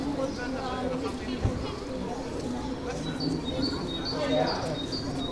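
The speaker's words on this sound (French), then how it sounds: "Ouais, j'entends les oiseaux." Birds chirp in trees in Belleville, thin repeated high calls spread through the clip, faint and somewhat distant beneath a steady murmur of people talking.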